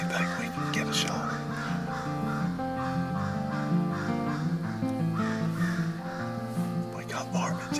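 Crows caw in Ohio or Virginia deer-hunting woods, their calls set beneath a steady layer of continuous tonal music-like sound that runs throughout.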